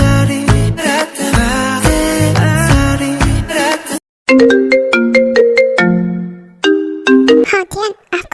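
A mobile phone ringtone plays a loud, bright melodic chime pattern, pausing briefly before the tune repeats, clear and close with no talking over it.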